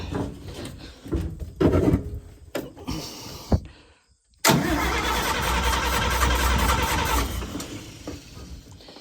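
A 1954 Metro van on choke first gives a few scattered clunks and cranking bursts, then after a brief silence the engine catches with a sudden roar and settles into a steady, loud, close idle.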